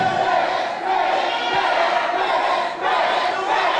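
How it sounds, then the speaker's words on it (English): A wrestling crowd at a main-event match roars for the heavyweight champion, a loud, sustained wall of cheering and shouting that swells and dips without a break. "Once again, the crowd behind our champion right now."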